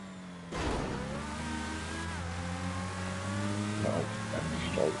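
Engine roar of a car accelerating hard in a GTA V Online stunt race, entering abruptly after a brief quiet start and holding steady with rising tonal revs, loud and close throughout.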